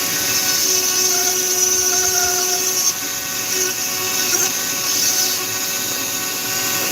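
A rotary tool fitted with a fine burr carves poplar wood, giving a continuous high, whining motor drone with a steady grinding texture, loud and close, without pause.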